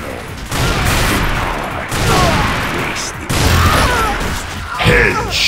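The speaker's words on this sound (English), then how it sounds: "I'm taking heavy fire!" Gunfire and explosive impacts in the arena shooter Unreal Tournament 3, a dense, loud fusillade of shots and crashes running throughout, mixed with game voice lines.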